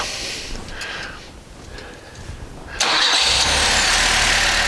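A car engine tuned for idle cranks and fires up partway through, then settles into a steady, fairly loud idle with no talk over it.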